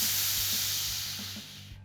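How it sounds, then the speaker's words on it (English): Pressure relief valve on a Cornelius keg lid releasing gas, a loud, close, steady hiss that fades slightly before stopping abruptly. "we're going to pull up on the pressure relief valve located at the top of the lid cover"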